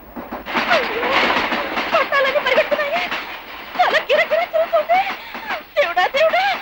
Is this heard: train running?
yes